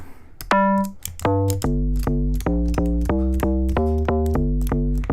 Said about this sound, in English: a couple of good dong bass alternatives which you can use